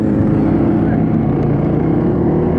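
A Suzuki GSX-R 150 motorcycle engine runs in a steady, loud, close idle with a dense low rumble throughout.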